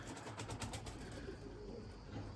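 Pigeons coo softly in a crowded breeding coop of Limoni pigeons, a steady low murmur of birds throughout with no talk.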